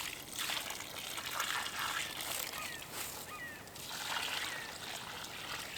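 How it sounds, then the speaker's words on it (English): Water poured from a jug onto the soil of a potted fruit tree, a soft continuous trickle and splash at close range, steady for several seconds with slight swells, alongside faint outdoor bird calls. "Now I'm just gonna water. I'm actually gonna use, I have some jugs of water,"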